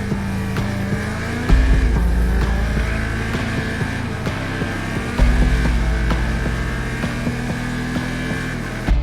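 Race cars rounding a corner on a circuit, engines droning loud and steady with pitch shifts as they brake and power through, a second car's note layered in, no talk over it.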